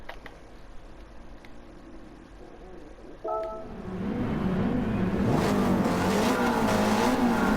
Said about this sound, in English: Little MR2 sounding aggressive.